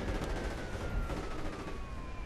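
Nebelwerfer rocket barrage in Company of Heroes, a dense sustained roar of overlapping blasts and rumble with a long descending whine across it, loud and continuous throughout.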